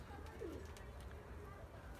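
A pigeon gives a soft, brief coo over a low background hum.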